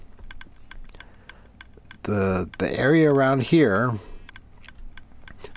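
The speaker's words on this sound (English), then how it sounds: "click, click of the observer blocks, since I've got clocks on all these things" Minecraft observer blocks wired to clocks, clicking in the video game: a quick, regular series of sharp ticks throughout, with someone speaking over the middle stretch.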